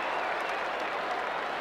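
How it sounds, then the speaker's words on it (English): A large football crowd at a 1989 preliminary final against Essendon breaks into dense, sustained applause, a steady wash of clapping heard close and loud with no gaps. "even the Essendon supporters are giving begrudging applause now"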